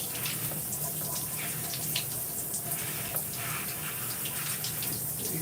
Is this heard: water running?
yes